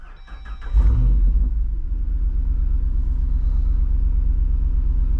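A Jeep Wrangler 392 V8 warm start: a brief starter whir, then the engine catches with a loud burst about a second in and settles into a deep, steady idle rumble, close and alone.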